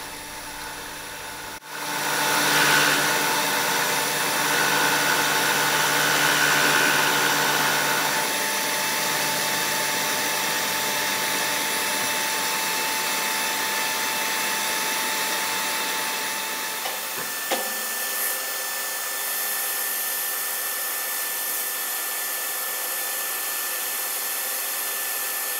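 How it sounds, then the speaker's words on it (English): Metal lathe facing off a plate for a shop-made collet chuck backing plate, a steady whirring hum and cutting hiss that starts abruptly, then shifts in tone partway through, with no talking. "I'll face off the plate"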